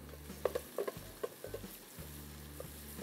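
Onions frying in ghee for a jackfruit biryani give a soft, steady sizzle, with a few quiet scraping stirs of a spoon in the pan. No one speaks.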